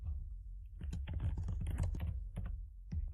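Rapid keystrokes clatter on a computer keyboard as a prompt is typed, a close, quiet burst of irregular clicks with brief pauses and no speech.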